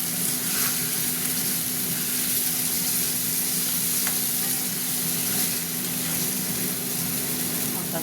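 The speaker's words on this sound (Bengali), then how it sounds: "এবার আদা রসুনের পেস্ট, লঙ্কা গুঁড়ো, হলুদ গুঁড়ো আর জিরে গুঁড়ো দিয়েছি। মশলাটা কষবো।" Ginger-garlic paste, chili powder, turmeric, cumin powder and tomato sautéing in a pan for a fat curry, a loud, continuous close-up sizzle with stirring scrapes throughout.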